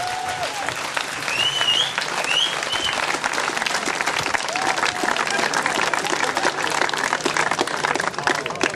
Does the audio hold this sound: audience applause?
yes